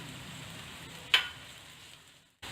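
Onion, garlic and grated ginger sizzle quietly in a pan, a low steady hiss broken by one sharp tick midway before the sound cuts out.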